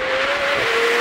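A McLaren 765LT Spider engine with a Novitec exhaust holds a loud, steady high-pitched note close by, a continuous roar with a slight drop in pitch near the end.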